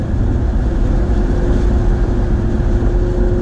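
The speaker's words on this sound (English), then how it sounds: "that exhaust, it's just hard to put into words." A Maserati GranCabrio convertible's exhaust gives a loud, steady, droning rumble with a constant hum running through it, close and uninterrupted, with no talking.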